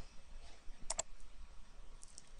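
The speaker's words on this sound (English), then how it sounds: "Then when I click Save," A computer mouse gives a quick double click, two sharp close taps near the middle, followed later by a fainter tick against a quiet room background.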